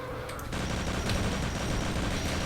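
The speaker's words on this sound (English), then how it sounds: "they kept the MP40, but they fixed that glitch where it reloads every time you pull it out" Sustained burst of MP40 submachine-gun fire in Project Brutality, a Doom mod, using the Wolfenstein weapon sound, a dense continuous rattle starting after a brief lead-in and running loud and unbroken to the end.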